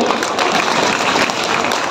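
Crowd clapping for a celebration committee at a community event, a dense burst of many hands applauding together, loud and steady across the short moment.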